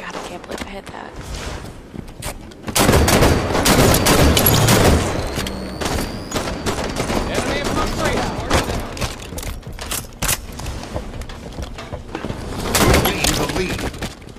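Dense, continuous gunfire from a SWAT tactical shooter game, with sharp bursts and booming shots layered throughout and a louder volley near the start, while players talk over the action.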